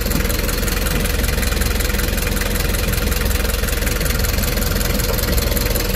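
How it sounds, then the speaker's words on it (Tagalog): A steady, even engine idle hums and rattles continuously at close range, with no change in pitch throughout. "So, makina na talaga marinig yan."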